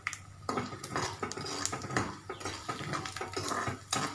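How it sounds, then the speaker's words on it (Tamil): Chana dal and urad dal frying with popped mustard seeds in a pan, heard as close, continuous sizzling and crackling punctuated by repeated sharp clinks of a spoon or spatula against the pan. "கடலைப்பருப்பு உளுத்தம்பருப்பு சேர்த்து வறுத்துடலாம்"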